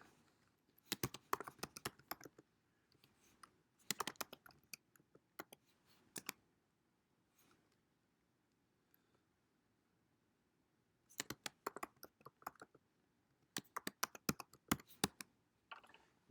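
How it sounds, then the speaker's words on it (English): Someone types a password on a computer keyboard in several quick bursts of close, clicky keystrokes, separated by pauses of near silence and faint room noise. "Hang on, I gotta type in my password."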